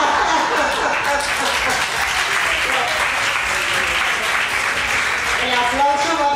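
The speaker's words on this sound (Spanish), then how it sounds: "El aplauso va para el del Twitter," Sustained audience applause at a Spanish talk-show taping, a dense, steady wash of many hands clapping at fairly close range, running throughout without a break.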